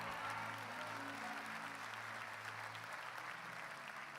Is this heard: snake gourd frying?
no